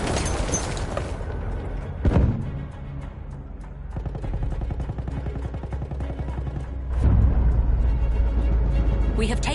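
A grenade bursts with a heavy boom in Battlefield 1, followed by scattered gunfire and a second loud explosion later amid the chaotic battle noise.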